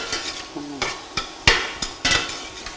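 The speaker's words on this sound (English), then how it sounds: "So that onion just needs to fry a bit." Sliced onions and green chilies frying in a pan for a tamarind brinjal curry, with a low sizzle under a few separate scrapes and knocks of a spoon stirring against the pan, close up.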